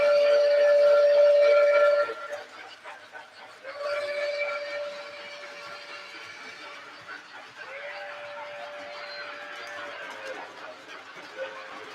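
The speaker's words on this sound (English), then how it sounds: "It's like the same exact whistle, but one sounds a little bit newer." A model steam locomotive sounds its whistle in repeated steady blasts, the first loud and the later ones softer, with background chatter and laughter around them.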